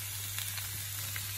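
Steady sizzling hiss of a vegetable base frying in oil for chicken pilaf, continuous and close, with no talking.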